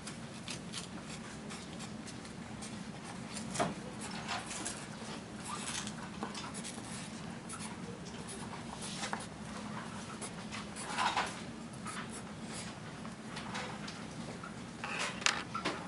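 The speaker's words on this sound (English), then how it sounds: "You're going to write the word introduction, nice and big." A yellow marker scratches across paper as the word introduction is written by hand in big letters. The strokes are soft and faint, with short scratchy bursts over a steady background hum.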